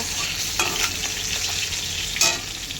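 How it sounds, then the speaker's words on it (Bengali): Fish frying in a pan, a steady close sizzle with a few brief scraping or clinking bursts of stirring, no one talking. "এই দেখো মাছটা আমার ভাজা হচ্ছে"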